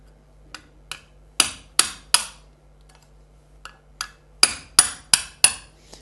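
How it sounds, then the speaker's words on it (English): A hammer taps a large washer on a VW Beetle rear hub oil seal in sharp metallic strikes, first single taps, then clusters of three in quick succession, close and alone without talk. "So just gentle taps, and try not to damage this washer too much"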